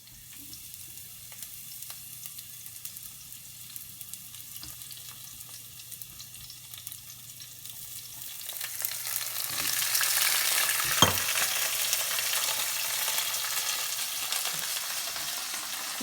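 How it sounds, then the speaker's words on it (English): Tomatoes and onions hit a very hot pan for saltfish and dumplings, bursting into loud, steady frying and sizzling that swells midway and keeps crackling to the end, with no talk over it. "Then slowly add the tomatoes and the onions."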